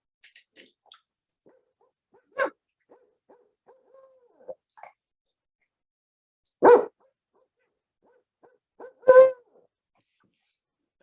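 A person imitates a bird call with their voice while covering the microphone, giving three or four short, muffled hoot-like calls spaced apart by near silence.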